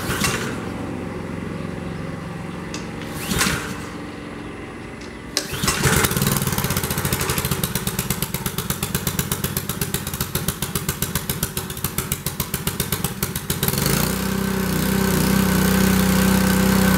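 A Simpson Megashot gas pressure washer engine sits quiet at first, then catches after a pull and settles into a loud, steady, close-up running drone that rises near the end.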